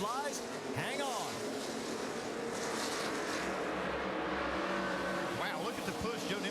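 Race cars roaring at Talladega as the green flag flies at the 2011 Aaron's 312, a dense, continuous engine drone with cars whooshing past near the start and end, a commentator talking over it.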